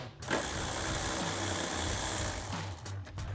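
An 8mm socket ratchet wrench loosening a headlight bolt on a Ford F-150, a fast continuous clicking of the pawl running for about two seconds, close and clear, then a few shorter clicks, no voices.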